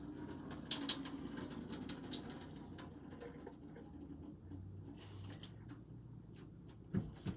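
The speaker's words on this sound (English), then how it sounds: "I'm going to drain out the water here." Water drains from a handful of reconstituted dried peppers in a kitchen, a faint, steady trickling and pouring with a few small clinks near the end.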